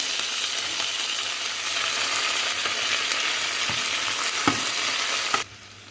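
Onion, ginger, curry leaves and green chillies sauté in oil for red rice poha, giving a steady, close sizzle with a few light clicks of stirring before it cuts off abruptly near the end.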